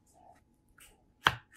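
A knife slices lengthwise through peeled mango cheeks on a board, with one sharp, loud cut standing out near the end after a few soft scrapes. No one speaks.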